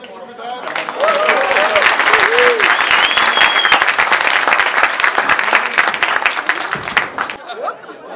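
Guests get a loud, sustained round of applause from an audience for about seven seconds, with some cheers and laughter mixed in before it fades out.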